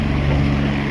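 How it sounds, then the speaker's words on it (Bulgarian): Motorboat running on open water along an eco-trail, a steady engine hum with a low drone and wind noise, continuous and fairly close throughout. "Лодката е по-бърза."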